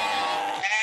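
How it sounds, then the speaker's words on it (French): Sheep giving a single short bleat, close and clear, lasting under a second with no other sounds around it. "Ni de moutons clonés."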